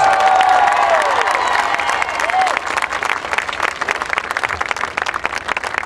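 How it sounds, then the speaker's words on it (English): Loud crowd applause mixed with cheers and whistles at a Barack Obama campaign rally in Downingtown, sustained throughout and easing slightly toward the end. "Give a big round of applause to Bob Casey"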